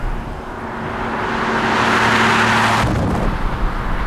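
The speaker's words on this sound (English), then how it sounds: "it drives along like a brand new truck" A 1962 Ford Econoline truck with a carbureted 300 engine drives along, its steady engine drone and road rumble swelling louder over about four seconds, with no talk.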